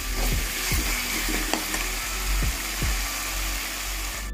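Tomatoes with salt frying in a pan for an aloo vadi curry, a steady close sizzle with repeated spoon scrapes and taps as they are stirred, continuous throughout.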